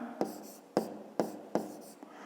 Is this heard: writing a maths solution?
yes